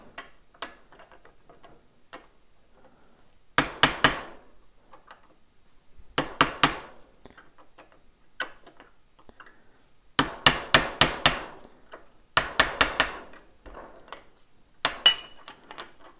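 Light metallic tapping on the EXUP valve part of a Yamaha Fazer 1000 during a workbench service: sharp clicky taps in quick bursts of three to five, separated by quiet pauses, close and alone.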